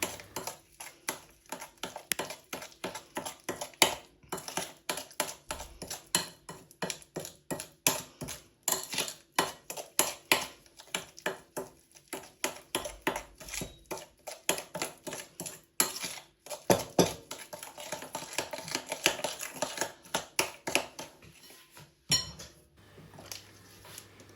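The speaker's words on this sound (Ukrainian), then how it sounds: "Далі ми додаємо три жовтки і гарно це все перемішуємо в однорідну масу." A whisk beats three egg yolks into batter in a bowl for an apple pie with meringue, a long run of quick, steady metallic clinks and scrapes against the bowl, close and busy throughout, with no talking.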